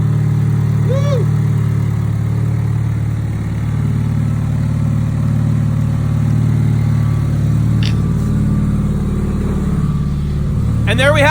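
The engine of a 700hp drift car that sat unused for three years idles steadily just after start-up, a loud, close, even rumble that runs the whole clip, with a couple of brief high squeaks.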